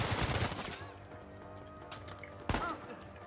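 Gunshots in the video game Uncharted 4, a burst at the start and a single sharp crack later, each ringing out over a quiet game ambience.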